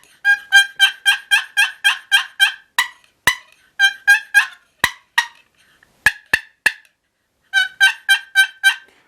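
A hunting turkey call mimics a hen turkey with loud, rapid runs of raspy yelps. Sharp single clucks sit between the runs, and the calling comes close and clear with no talking.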